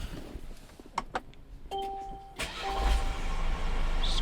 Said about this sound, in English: I'm gonna run the engine first, just to make sure everything is running smoothly the way it's supposed to.